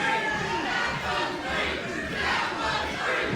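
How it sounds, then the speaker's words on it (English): A wrestling crowd roaring at a near fall during a championship match, a dense swell of cheering, shouting and chatter that rises and falls in waves. "And you hear the crowd."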